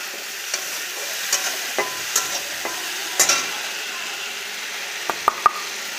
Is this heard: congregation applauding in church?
no